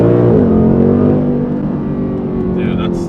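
Toyota Prius pulling hard in first gear, its engine and drivetrain note rising into a loud, steady drone that stays close throughout, with a faint whine at the end.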